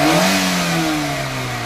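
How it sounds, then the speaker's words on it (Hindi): A Maruti Eeco engine, freshly repaired after a misfiring backfire problem, revs up and then winds down smoothly, loud and close, with no talking. "अब इंजन की आवाज़ सुनो"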